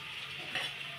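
Onions frying in a pan while being stirred, a steady close sizzle with a brief louder scrape of stirring midway and no talking.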